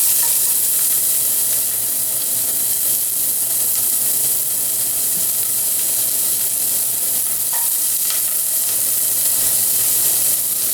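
Onions and garlic sizzle steadily in two tablespoons of hot olive oil in a saucepan, a loud continuous hiss of frying with no talking.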